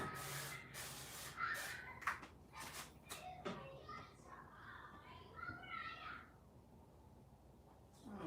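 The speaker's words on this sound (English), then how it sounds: "So I'm just going to spray some avocado oil on here so it doesn't stick." Avocado oil sprays onto a cooking surface in a home kitchen in short hissing bursts, a few quick spurts early on, fairly faint, with talk and background voices around them.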